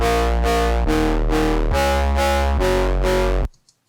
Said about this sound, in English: we're going to add a crap ton of distortion as the first thing